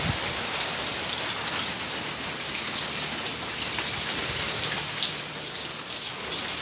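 Steady rain falls outside a house under construction, a dense even hiss of drops on surfaces with a few louder splashes, no voices.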